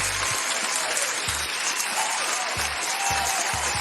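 A studio audience at a battle-rap podcast applauds in a steady, fairly loud wash of clapping that runs the whole time, broken by a few low thumps, with no speech on top.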